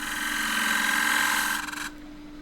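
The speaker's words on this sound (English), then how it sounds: "That's just a little chamfer to take away the broken grain." A woodturning lathe with a tool cutting a small chamfer on a cracked fiddleback redgum bowl, a steady close scraping hiss that holds for under two seconds and then cuts out, leaving the lathe's hum.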